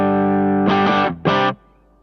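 A Fano Omnis MG6 electric guitar with P90 pickups rings out clean, a sustained chord followed by two bright strummed bursts, then it cuts off abruptly.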